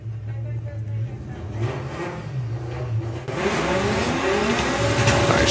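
A VW Golf on the drag strip at Santa Pod sounds as a loud, close engine drone that swells and rises in pitch as the car revs and pulls away, growing louder toward the end.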